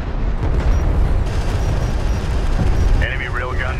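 Rumbling vehicle explosion in the real-time strategy video game Homeworld: Deserts of Kharak, heavy booming blasts and crackle under battle noise, with a game voice speaking.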